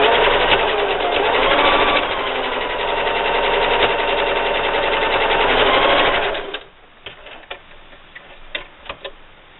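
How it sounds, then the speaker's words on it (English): A sewing machine runs a fast, even stitching whir while sewing down a loop on a drawstring backpack, loud and close for about six seconds, then stops, leaving a few faint clicks and taps. "I'm just going to sew my loop down."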